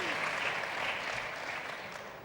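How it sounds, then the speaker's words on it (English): Sustained audience applause at a conference panel on employability and education, a dense, steady wash of many hands clapping that fades slightly toward the end, with no voices over it. "yes, clap please."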